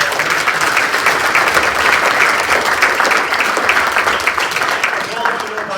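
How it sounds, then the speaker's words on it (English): Audience applause at a National Capital Wing change of command ceremony, a dense sustained round of clapping from a large crowd, loud and close, tapering slightly toward the end. "Please give yourselves another round of applause"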